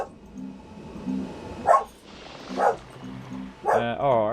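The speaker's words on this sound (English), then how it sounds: "I can hear the dog barking." A dog barks indoors in three separate bursts, moderately close, over quiet background tones and a low hum.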